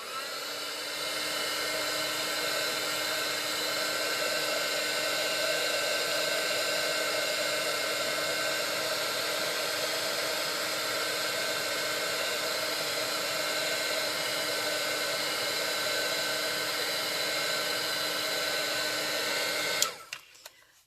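A heat tool blows steadily and loudly on a stamped paper craft tag for about twenty seconds, a constant whooshing hiss with a faint motor whine, cutting off abruptly at the end.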